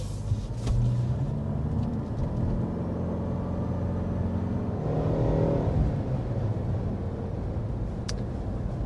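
A 2024 Mitsubishi Outlander with an eCVT and simulated shift points accelerates up to speed, a steady engine drone from the cabin whose pitch climbs, drops slightly and rises again.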